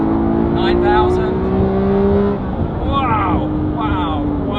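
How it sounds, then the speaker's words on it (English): A Porsche 911 GT3 engine drones steadily while driving, a loud, constant in-cabin hum that eases slightly partway through, with people talking over it. "This is a fantastic car."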